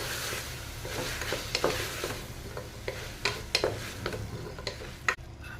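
Saranai keerai greens are stirred into sautéed onion and tomato in a pan. A spoon scrapes and clinks against the metal over a soft sizzle, with irregular close taps and no talking.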